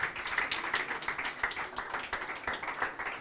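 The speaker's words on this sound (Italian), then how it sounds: "E allora un grosso applauso al mister." Applause for a futsal team coach at an awards ceremony, a dense, steady patter of many hands clapping at moderate distance with no pause for about three seconds.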